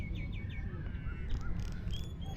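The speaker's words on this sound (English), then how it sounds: "We have a bird making some noises here." A bird gives a quick run of harsh, crow-like caws over a rumbling outdoor background along the Ha Giang Loop in Vietnam, repeated short calls at moderate distance with no voices.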